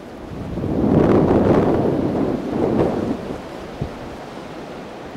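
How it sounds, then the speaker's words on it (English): Strong blizzard wind in Washington DC drives and drifts snow, a loud, steady roaring rush that swells and eases, with buffeting on the microphone. "Lots of wind still, blowing snow around and drifting very strongly in."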